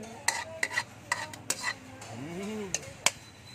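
Pad kaprao, Thai holy basil stir-fry, is tossed in a pan with sharp irregular clanks of a spatula over a soft sizzle, and a brief voice murmurs partway through.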